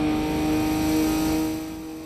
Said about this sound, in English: this time for the turbo release sound